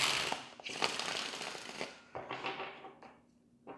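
Tarot cards being shuffled by hand in three separate bursts of crisp riffling and flapping, close and fairly quiet, with short pauses between them.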